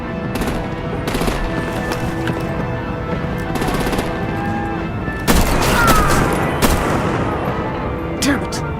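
Gunfire and artillery in the Batman: The Telltale Series video game: dense, continuous rattling fire under a steady roar, with heavier blasts cutting in partway through.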